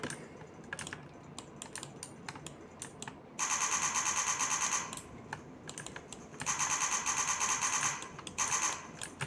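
Automatic gunfire in the Roblox game Life in Prison comes in two long, rapid, evenly pulsed bursts of several seconds each. Faint clicking runs between them with no speech.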